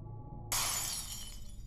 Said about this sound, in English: Can we hear another glass shattering?